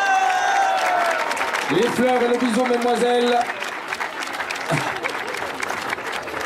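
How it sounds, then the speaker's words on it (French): A crowd applauds the Belgian best-climber jersey winner at a Tour de Romandie 2017 podium ceremony, with steady clapping under an announcer's voice and brief tonal sounds. "On applaudit bien fort le coureur belge"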